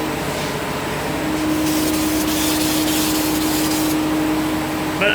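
A steady hiss of spray paint from an aerosol nozzle with an uneven spray pattern, applying splatter paint to a GM car trunk, close and continuous, ending with a brief rattle.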